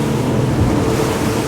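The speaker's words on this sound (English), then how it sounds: "really bouncing up and down through these waves here in a comfortable manner" A Jeanneau 10.5WA motor boat pounding through 1.5 to 2 metre open-ocean rollers at speed, with a loud, steady rush of water, hull slap and wind buffeting, no voices.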